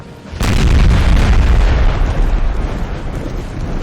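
Artillery fire in Napoleon: Total War bursts out as a sudden heavy boom, followed by a deep rolling rumble of explosions that lingers and slowly fades, loud and close.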